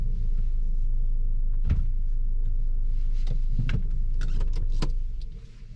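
A car reverses slowly into a roadside lay-by for the night, with a steady low engine rumble close by and a few knocks and clunks before the sound drops away at the end.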